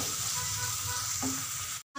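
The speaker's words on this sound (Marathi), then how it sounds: "आता छान मसाला असा परतून घ्यायचा यामध्ये" Masala frying in hot oil in a kadai, giving a steady loud close sizzle that cuts off abruptly near the end.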